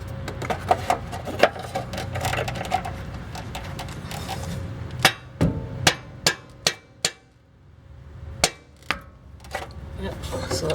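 A hammer strikes a stud in a series of sharp, close metallic smacks to knock loose a block-off plate on a Toyota/Lexus 5.7L engine, following some earlier rummaging and clatter.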